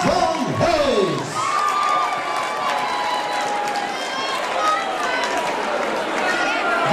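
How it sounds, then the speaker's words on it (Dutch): A carnival session crowd breaks into loud, sustained applause and cheering for newly announced court ladies, with whistles, shouts and chatter over a continuous wall of clapping in a packed hall. "Dit is een groot applaus, onze nieuwe hofdames"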